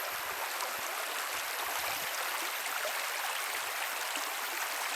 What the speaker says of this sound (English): The river's really widened up now.